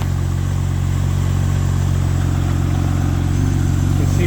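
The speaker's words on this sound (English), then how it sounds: "That's the completion of the cold start cycle." An X50 car engine idling right after a cold start, a steady close-up rumbling drone with even low pulsing and no change in pace.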